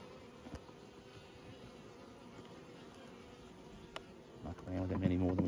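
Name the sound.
honey bees buzzing at an open hive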